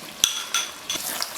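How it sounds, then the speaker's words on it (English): Lamb biryani being stirred after yogurt is added, heard as a few brief scraping clinks of a spoon against the pot, spaced apart over a faint soft sizzle. "Just going to stir in the yogurt and removing it from the heat"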